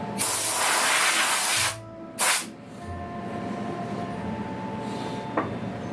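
A can sprays polyurethane finish onto small turned wooden chess pieces in a close, steady hiss lasting over a second. A short second burst follows, then quiet room tone.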